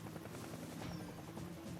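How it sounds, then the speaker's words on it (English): Two military helicopters fly toward a battlefield in the Vietnam War, heard as a steady, fairly faint rotor chop with a rapid rhythmic pulse that stays constant throughout. "2 helicopters loaded with life-saving ammunition make their cautious way to the battlefield."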